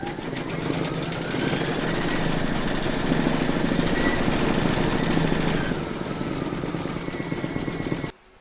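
A computerized embroidery machine stitches round seven of a takeaway coffee coaster design, the word coffee, with a steady, loud mechanical whirring hum that runs continuously, then stops abruptly near the end.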